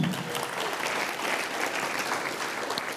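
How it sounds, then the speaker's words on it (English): Moderate applause from the audience at a San Marcos State of the City address, a steady wash of clapping at some distance lasting a few seconds. "Yes, you should applause."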